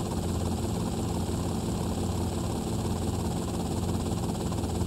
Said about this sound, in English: And now we have to leave the helicopter somewhere that we can get to it pretty easily.